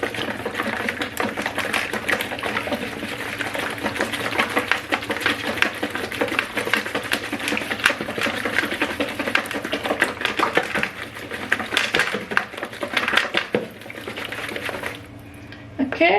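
Banana cake ingredients are whisked together in a bowl, giving a rapid, steady run of light clicking and tapping that carries on evenly for about fifteen seconds before briefly thinning out near the end.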